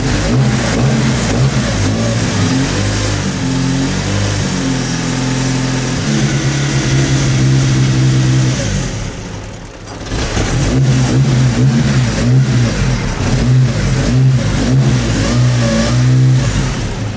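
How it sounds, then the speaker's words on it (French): A vintage racing car engine at close range, loud and continuous, cranking and catching, then revved repeatedly with rising and falling pitch, a brief dip near the middle before revving resumes. "On ne démarre pas ces voitures comme on démarre une WRC, c'est aussi long pour la démarrer"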